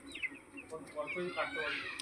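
Chickens let outdoors under a cloudy, rainy sky cluck and call softly at close range, with short rising cries scattered through the moment.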